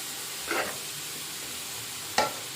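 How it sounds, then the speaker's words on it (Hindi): Ingredients fried in a pan while a small spoon stirs them: a steady background sizzle broken by two brief scraping strokes of the spoon, close and moderately quiet. "तो मैं इनको छोटे चम्मच के साथ फ्राई कर देती हूँ"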